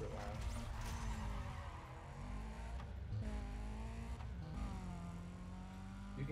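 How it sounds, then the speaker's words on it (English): A car engine drones and revs in the racing video game Need for Speed Undercover, pitch rising and falling through gear shifts at a steady, moderate level. "You can hear more of the engine revs in this one than this one."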